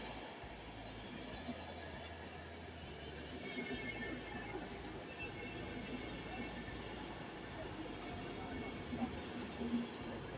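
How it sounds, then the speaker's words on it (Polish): A Berlin-Warszawa Express passenger train rolls into a station with a continuous low rumble and wheel clatter, plus faint high squeals that grow toward the end. "Wjeżdża pociąg Berlin-Warszawa Express ze stacji Warszawa Wschodnia do stacji Berlin"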